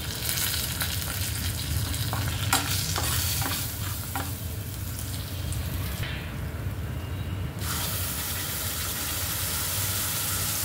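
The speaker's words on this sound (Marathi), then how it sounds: "आता हा आपल्याला मसाला खूप चांगला भाजून घ्यायचा आहे" Masala with ginger-garlic powder fries in a pan for cauliflower bhaji, a steady close sizzle with scraping stirs of a spoon cutting through at intervals.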